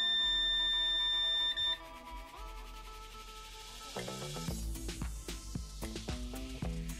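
A steady high-pitched electronic beep from a multimeter continuity test holds for under two seconds and cuts off, followed by irregular clicks and clatter, while probing pins of a laptop charging IC.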